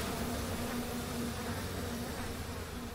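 A swarm of bees buzzes in the BioShock video game, a steady, continuous drone with a low hum that holds at an even level throughout, with no speech over it.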